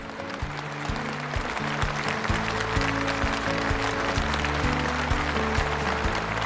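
Applause from a studio audience on a Tianjin TV stage show, welcoming a guest on stage: a dense, steady clatter of clapping throughout, mixed with loud stage music.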